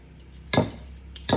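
A spoon clinks against a bowl while stirring Bisquick biscuit dough for 7 Up biscuits, with two sharp clattering bursts over faint scraping.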